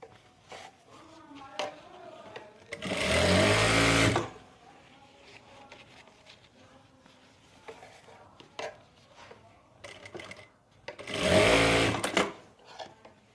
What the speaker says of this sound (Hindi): अब एक सिलाई हम इलास्टिक के ऊपर से लगाएंगे ताकि हमारा इलास्टिक सरके ना।